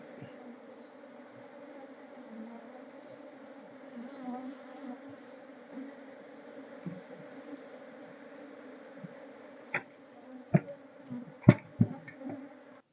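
Honey bees buzz steadily around an open hive during a beekeeping inspection, a soft continuous drone close by, broken near the end by several sharp knocks and scrapes.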